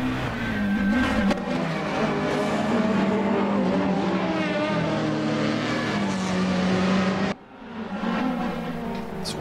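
Race car engine roaring around the Nürburgring in a racing video game, a loud sustained high-revving drone with shifting pitch, briefly dropping near the end before picking back up, with no talking.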